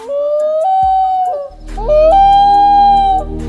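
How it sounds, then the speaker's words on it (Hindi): Recorded call of a common loon: two long, eerie wailing notes that rise and then hold steady, loud and clear against a faint low hum. "सबसे पहले बात करते हैं कॉमन लून की।"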